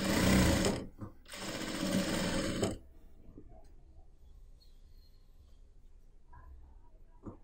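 A sewing machine stitches the sleeve seam of a churidar in two rapid, loud bursts of whirring needle action, separated by a brief pause, then stops, leaving quiet room tone with faint handling sounds.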